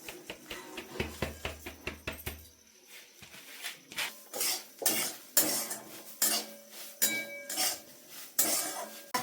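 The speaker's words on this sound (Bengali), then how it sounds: "এরপরে শুকনো কড়াইয়ের মধ্যে তিলটা কিন্তু আমি ভেজে নেবো।" Sesame seeds tossed in a dry wok for village-style til puli give sharp metallic clinks and scrapes of a spatula, first quick and sparse, then louder rhythmic stirring strokes, close and without talk.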